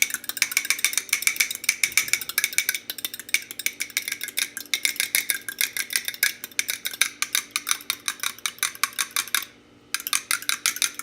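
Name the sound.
whisking eggs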